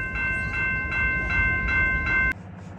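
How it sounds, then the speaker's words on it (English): Christmas holiday train rolling along the line through Canadian winter country: a steady low rumble of wheels and cars with sustained tonal horn blasts repeating in a rhythm, ending in a sharp click after which only a quieter rumble remains. "the Christmas train rolls on."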